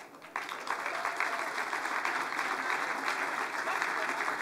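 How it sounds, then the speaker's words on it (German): An audience at an energy-grid industry event in Nuremberg applauds warmly as a speaker is welcomed; sustained, even clapping from a sizable crowd continues throughout, moderately distant. "Wir begrüßen mit einem ganz kräftigen Applaus vom Forum Netztechnik Netzbetrieb im VDE Heike"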